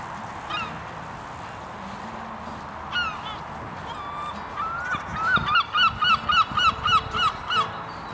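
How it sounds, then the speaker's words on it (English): Seagulls call outdoors in nature, first a few scattered cries, then a rapid loud series of repeated yelping calls toward the end. "Seagulls."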